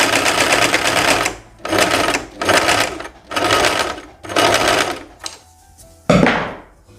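A sewing machine stitches a summer chemise dress in five rapid whirring bursts separated by short pauses, followed by a softer stretch and a final sharp burst, close and loud.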